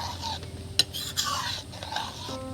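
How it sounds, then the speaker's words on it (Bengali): Cabbage curry is stirred after water is added, a spoon scraping and clinking against the pot in a few quiet strokes with light sizzling underneath. "জল দিয়ে আবার একটু নেড়ে চেড়ে নেবো"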